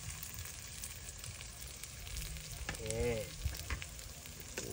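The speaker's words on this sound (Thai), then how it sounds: "คั่วไข่ใส่หอมจีน" Eggs stir-frying with Chinese onion in real pork lard, a close, steady sizzle with occasional scraping stirs and a brief voice mixed in underneath.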